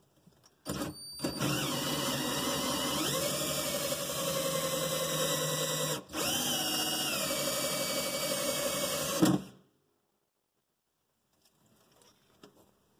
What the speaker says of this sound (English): I chose to just take a 1-inch hole saw, and I'll cut a hole here